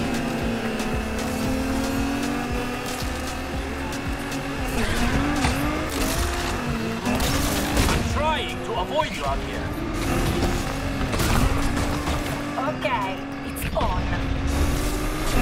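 A Nissan GT-R race car accelerates hard in Need for Speed Unbound, its engine note climbing in steady harmonic sweeps with tire noise, ongoing and loud throughout, with someone talking over it.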